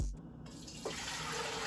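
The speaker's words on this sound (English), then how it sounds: "we're good on filling up the water" Tap water runs into a cooking pan, a quiet steady splashing and filling flow close by, starting after a brief knock and continuing to the end.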